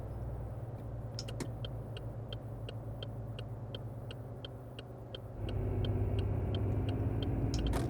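A Ford car's engine rumbles steadily from inside the cabin while driving, a low continuous drone that thickens and grows louder near the end, with a regular ticking like an indicator over it.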